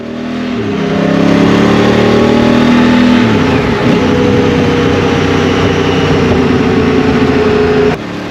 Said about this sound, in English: So bringing the bike up to around 80 miles an hour